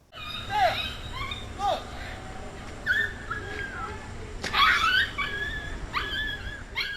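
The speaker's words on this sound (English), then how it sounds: "shows the moment 34-year-old Coplen Lay is seen tossing a puppy into the air and the animal landing on concrete" A puppy whimpers, yelps and wails in repeated high cries, caught on surveillance footage during an animal abuse incident in Louisville, with faint background noise between the cries.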